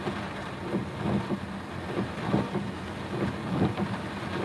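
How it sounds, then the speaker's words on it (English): Steady rain falls outside as a constant dense hiss with soft irregular patters and low rumbles throughout, moderately loud and even. "God, it's raining."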